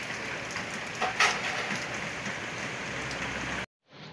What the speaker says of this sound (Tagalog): Konting ulan lang po.